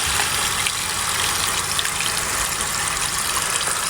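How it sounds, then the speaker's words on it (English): Water runs steadily into a rock tumbling barrel, a continuous hissing, splashing pour held close and at even strength throughout, with no voices. "Put some water in."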